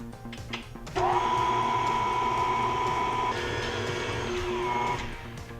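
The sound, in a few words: electric mixer mixing gluten-free brownie batter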